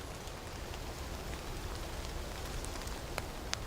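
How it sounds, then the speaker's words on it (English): Soft rain showers patter through a wet, cold March forest in Germany, a faint, steady hiss broken by a few sharp nearby drips, with no voices. "Rain and snow showers alternate."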